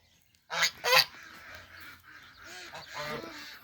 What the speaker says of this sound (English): I've got 2 ducks in a chicken pen as well.